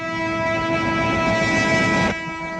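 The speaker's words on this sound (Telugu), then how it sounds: "అయ్యో, ట్రైన్ స్టార్ట్ అయింది." The Godavari train sounds its horn as it starts to depart from the station: a loud, steady, tonal blast lasting about two seconds, then dropping to a quieter rumble.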